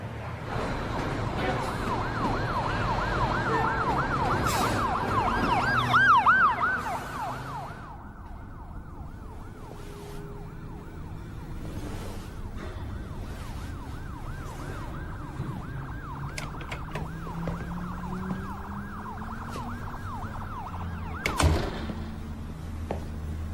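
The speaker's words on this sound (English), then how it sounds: "Sirens. Car horns. It's so fucking noisy!" Sirens wail continuously over distant city traffic, one rising and falling close by at first, then fading into a farther, ongoing undulating whine.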